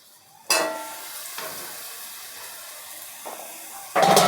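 Hot fried jaggery gavvalu dropped into sugar syrup give off close, loud sizzling bursts, a sharp hiss at the start and another near the end, with softer stirring and crackles between.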